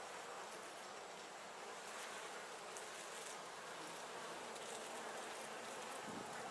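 Honeybees buzzing at a hive entrance in December: a faint, continuous swarm-like hum and hiss that stays steady with no pauses or voices.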